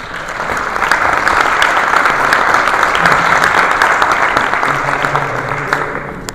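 A lecture audience at a talk on hydrogen energy bursts into sustained applause for the speaker, a loud, dense clapping that swells quickly and holds steady for several seconds.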